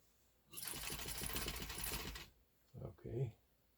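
An Atlas straight-stitch sewing machine runs over a thick, rolled hem seam on a pair of jeans in one rapid, close burst of roughly one and a half seconds, followed by a couple of brief soft clunks.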